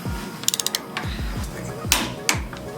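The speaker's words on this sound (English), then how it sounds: "we're gonna use a torque wrench. Make sure to set it to 58 foot-pounds of torque, and we are gonna go ahead and torque this down." A torque wrench set to 58 foot-pounds ratchets while tightening a clip-on bolt on a 2022 Kawasaki ZX6R, first a quick burst of sharp clicks, then slower, louder single ratchet strokes close by.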